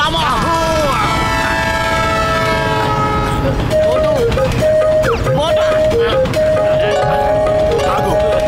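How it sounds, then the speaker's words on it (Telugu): A cartoon train rumbles past close by, its horn sounding in long, repeated blasts over the clatter, while animated characters talk in the background. "అది సమోసా కాదు, ట్రైను"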